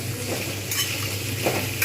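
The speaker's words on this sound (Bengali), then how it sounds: "খুব ভালোভাবে আলুগুলো ভেজে নেবো" Potatoes frying in a pan for vegetarian Bengali aloo posto with poppy seeds: a steady close sizzle with brief bursts of stirring scrapes, even and moderately loud, with no one speaking.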